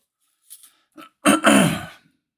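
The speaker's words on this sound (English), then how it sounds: "And I apologize for clearing my throat again." A man clears his throat a few times while assembling a DeAgostini 1:8 scale VW T1 Samba model. Two short, soft grunts come first, then a louder, rasping clear nearby in an otherwise quiet room.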